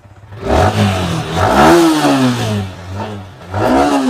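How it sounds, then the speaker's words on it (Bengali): An eleven-month-old motorcycle at a used bike showroom near Kolkata runs close by, its engine revving up in repeated rising swells between lower idle stretches. "গাড়ি স্টার্ট একবার করে দাদা দেখিয়ে দাও"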